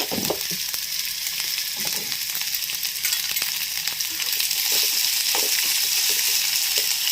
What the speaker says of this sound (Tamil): இப்போ இந்த பெரிய வெங்காயத்தை எண்ணெயில் போட்டு நல்லா வதக்கிருக்கணும்